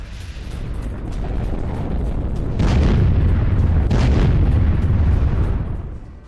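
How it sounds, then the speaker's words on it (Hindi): Cluster bomb munitions strike Russian military posts in Kursk, producing a continuous heavy rumbling roar with two sharper blasts partway through, heard from a distance and without voices. "रूसी चौकियों पर गिरा एक क्लस्टर बम।"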